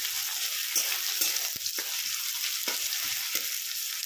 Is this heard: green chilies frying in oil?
yes